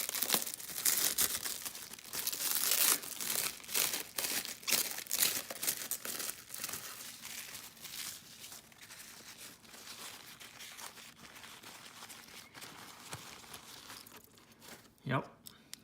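Cellophane wrapping crinkles and crackles in dense bursts, loudest early on and thinning out later, while a package holding a French Mercedes 540K Hot Wheels car is opened up close.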